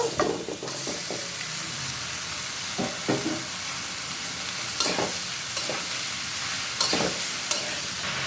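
Bottle gourd fries in a pan with dried chili, mustard, bay leaf and turmeric: an even sizzle runs throughout, punctuated by several clattering stirs of the spoon against the pan.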